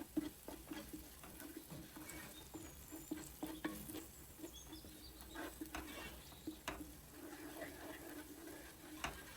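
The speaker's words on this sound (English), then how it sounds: "I'm adding 1 tablespoon of red chili powder, giving it all a good stir" Green chilies and red chili powder are stirred into masala frying in a pan. A faint, low sizzle runs underneath while a spoon scrapes and taps at irregular moments, with no voices.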